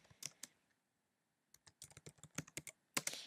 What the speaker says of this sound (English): So I'm typing in a couple of different words